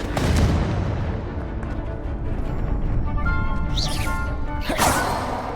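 Confringo blasting spells explode in Hogwarts Legacy with heavy booming impacts and crackling bursts over constant loud rumbling, followed by two sharp whooshing hits near the end.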